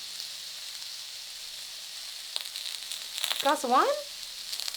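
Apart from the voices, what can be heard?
onions sizzling in a grill pan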